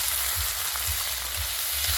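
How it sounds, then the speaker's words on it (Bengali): Chopped ginger and chilli stir-fried in a pan as filling for a potato-stuffed snack, a steady close sizzle of hot oil under rhythmic low scraping strokes of a spatula, with no talking. "এবার একটু নেড়ে চেড়ে ভেজে নেব।"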